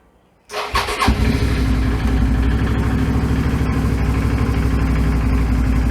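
Suzuki V-Strom DL650 motorcycle engine cranking and catching after a fuel filter replacement, then settling into a steady, close, rhythmic idle.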